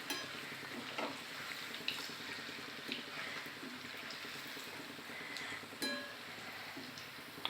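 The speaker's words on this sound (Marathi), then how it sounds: "आणि हाय फ्लेमवर तळायचे आहे।" Green moong bhaje fry in hot oil over a high flame, a faint continuous bubbling sizzle with scattered stirring taps and scrapes, quiet and without speech.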